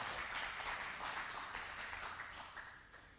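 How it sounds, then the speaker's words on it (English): Soft, dense applause rises from a congregation at a weekly Torah study, fairly faint and steady for a few seconds before slowly fading. "give them all a round of applause"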